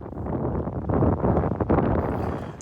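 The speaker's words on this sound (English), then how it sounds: "I'm getting winds solidly over 20 knots" Strong wind over 20 knots buffets a boat anchored about 300 feet from shore, a steady roaring rush with gusty swells close to the microphone, alone without voices.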